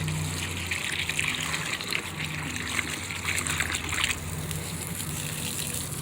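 Water trickling and gushing steadily as it is poured into an outdoor nature science experiment, a continuous close pouring sound with no talk over it.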